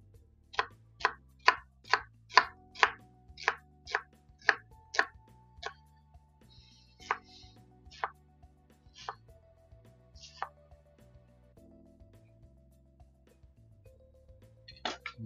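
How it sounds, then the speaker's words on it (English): Onions being rough-cut with a kitchen knife on a cutting board, a quick series of about a dozen sharp chops followed by sparser cuts and small clatters, close and clear with no talking. "rough cut on the onions here"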